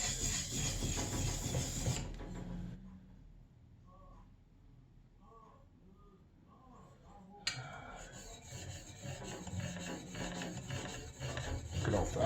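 A steel plane iron is rubbed back and forth on a DMT diamond sharpening plate, giving raspy scraping strokes that fade to a quieter stretch before loud, close, continuous grinding resumes.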